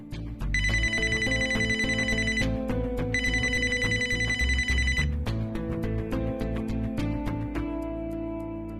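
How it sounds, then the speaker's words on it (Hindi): A telephone rings in an indoor drama scene with repeated electronic bell bursts: two long trills, then shorter tones over a sustained low hum, loud and close. "सर, प्लीज फोन अटेंड कीजिए।"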